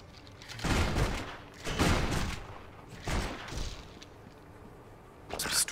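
Gunfire aimed at a zombie horde in Torchlight 2 comes as four separate rough bursts, spaced a second or more apart, at moderate volume with no talking.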